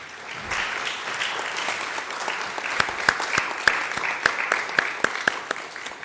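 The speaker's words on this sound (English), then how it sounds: "please give a round of applause to all our speakers" Conference audience applauding its speakers, a dense wash of many hands clapping steadily at moderate distance, with a few sharper individual claps standing out toward the end.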